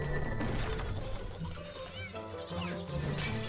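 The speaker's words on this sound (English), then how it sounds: "Shrek, I didn't hear you come in with all that smashing, bashing, and crashing" Video game smashing and crashing in Shrek SuperSlam, with dense overlapping bangs, clatters and breaking impacts in quick irregular succession, loud and close against a busy background.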